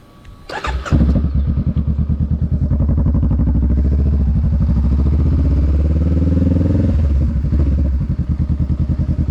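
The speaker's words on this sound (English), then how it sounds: "So right now I'm at first gear. I can give it a little bit of throttle." Motorcycle in first gear pulling away from a stop up a steep uphill street, engine revving up to a loud, steady close-up drone that holds with throttle, then eases slightly near the end.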